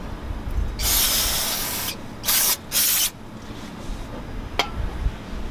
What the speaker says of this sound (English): I just hose it down with a little bit of brake clean.